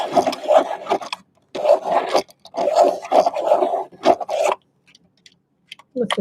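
Crayola crayon being sharpened in a handheld sharpener: several bursts of close, raspy grinding scrapes separated by short pauses, with a faint voice at the end.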